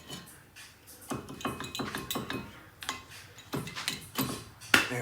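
Brake pads are pried out of a rusted caliper on a 2011 Impala, giving a run of close metallic clanks, knocks and scrapes in uneven bursts, with a sharp clink near the end.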